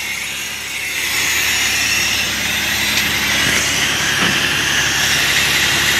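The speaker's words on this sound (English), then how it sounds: "Sounds like it's got an air leak somewhere." Compressed air hisses continuously from a leaking hose on a 2007 Sterling L9500 dump truck, a loud, steady broadband rush that holds unbroken for several seconds with faint mechanical clanks beneath.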